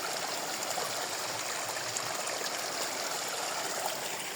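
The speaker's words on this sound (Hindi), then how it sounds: "फिर ये भी एक प्रकार से झरना है।" A mountain stream tumbles down as a small waterfall at a crossing on the Triund trek in Himachal Pradesh, with temporary stones laid across it. Its rushing, hissing flow is close and continuous, with no voices over it.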